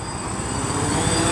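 A DJI Phantom FC40 quadcopter drone lifts off, its rotors giving a steady, fairly loud broadband whir with a constant high whine, unbroken for the whole second or so.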